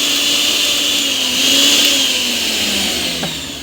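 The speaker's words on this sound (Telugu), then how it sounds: "అయ్యో మిక్సీ స్విచ్ పెట్టినా," A kitchen mixer grinder runs with a steady, loud, close whirring motor drone and high-pitched whine that shifts slightly in pitch, no talking over it.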